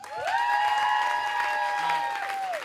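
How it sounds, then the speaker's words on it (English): Audience applause at a cabaret show, a bright steady patter of clapping with some cheering, heard beneath a sustained held tone that runs through nearly the whole stretch. "Give him another round of applause"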